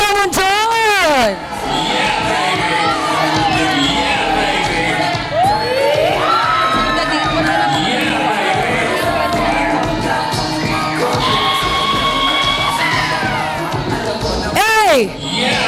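Guests at a wedding reception cheer, whoop and shout together in a loud, sustained roar of voices, with high excited shrieks rising throughout and a sharp yell near the end.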